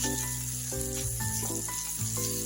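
Water is poured into hot oil with spices and green chilli in a pan while cooking a paneer curry with milk taro, giving a brief, close, hissing sizzle with no talk.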